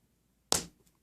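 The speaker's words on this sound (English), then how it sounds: "applying additional pressure until I hear a popping sound" A single sharp pop as a scored glass circle begins to break and run under gentle hand pressure, close and crisp against near silence.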